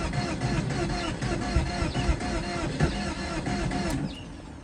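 A 2003 Porsche Boxster engine cranks with a loud, rough, rhythmic churning of the starter that runs for several seconds and then stops abruptly.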